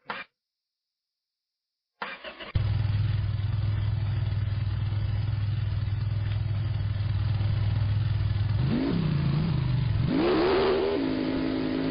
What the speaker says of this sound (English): we're going to wrap up this episode with a little test drive